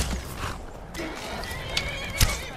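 A horse in the video game Skyrim neighs and whinnies loudly near the end, with a short earlier snort, over a steady ambient game background with faint hoof clip-clop.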